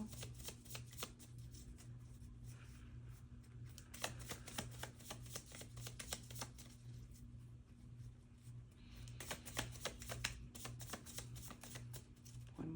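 Tarot cards are shuffled repeatedly up close, quick riffling bursts and soft slaps coming in waves over a faint low hum.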